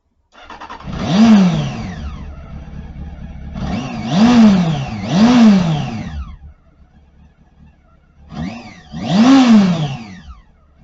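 Honda motorcycle fitted with a Yama D46 exhaust revving in four loud, close blips, each rising and falling, two grouped together, with short idle gaps between.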